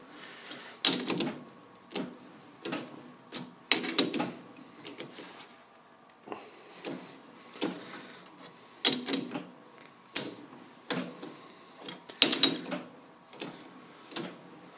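A 3/8 UNC tap is turned by hand through a shallow hole held in a lathe tailstock, giving quiet, irregular bursts of scraping and clicking with short pauses between each turn.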